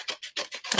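Scissors snip through stiff cardstock five times in quick succession, each cut a crisp, close rasp.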